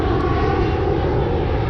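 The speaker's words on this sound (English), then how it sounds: "Airplanes flying all over your head and stuff." A fixed-wing airplane passes overhead near Orlando's airport by a fishing lake, a loud, steady engine roar filling the whole stretch with no talk.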